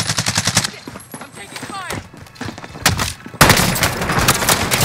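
Rapid bursts of automatic gunfire and shotgun blasts in the video game Call of Duty: Modern Warfare, loud and close, coming in clusters with a sharp burst near the end, while a player talks over it.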